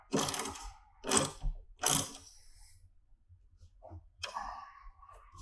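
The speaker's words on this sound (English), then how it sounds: "you're going to use your half-inch socket to tighten it up." A half-inch socket ratchet tightening a bolt on a tonneau cover bracket on a Jeep Gladiator JT, with three short bursts of close clicking followed by quieter handling sounds.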